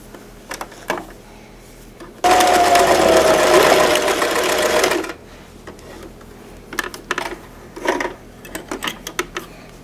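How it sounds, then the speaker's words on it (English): A home sewing machine stitches around a fabric penguin toy in one steady, loud whirring run of about three seconds, with quieter clicks and fabric handling before and after. "we are done with all of the machine sewing"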